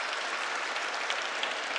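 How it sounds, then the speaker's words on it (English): Applause from a school audience at a talents day event, a dense steady wash of clapping hands throughout, moderately loud and without talk. "Yes, a big round of applause for that."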